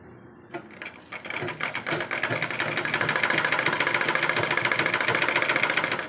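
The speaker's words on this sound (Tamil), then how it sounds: "இப்போ நான் தைச்சிட்டு காமிக்கிறேன். இப்படியே தைச்சிட்டே வாங்க." Sewing machine stitching the neck of a blouse, starting with a few clicks, then running at a fast steady mechanical chatter, loud and close, with no talking.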